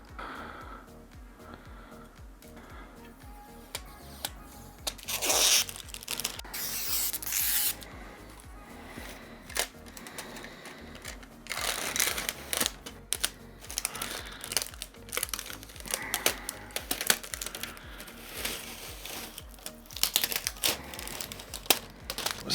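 Protective plastic film peeled off an ASUS ROG Strix RTX 4080 OC graphics card: close crinkling and crackling in uneven, repeated strips with sharp tearing bursts, loud and unbroken, with no talk.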